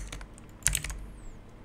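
Several computer keyboard keys pressed in quick succession while rigging a model in Blender, crisp close clicks with a slightly louder cluster near the middle, no voices.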